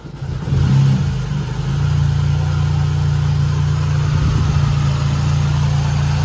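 A Nissan Sentra B14 engine idles steadily while warming up after an alternator replacement, a loud, even low hum that settles into a constant drone after a brief rise at the start.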